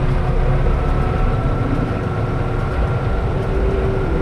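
Steady low droning engine with a constant mechanical hum and gear noise from a tractor running a hay turner, heard from inside the cab with no talking.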